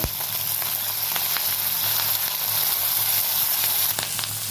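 Onion stalks fry in oil with nigella seeds, slit green chillies and a pinch of salt, a loud close steady sizzle with occasional light stirring clicks and no voices.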